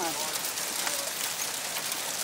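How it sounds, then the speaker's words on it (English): Hail falls outside, a dense continuous patter and hiss of pellets striking surfaces, loud and steady, with a voice speaking over it. "Whoa, what is that? It's hailing?"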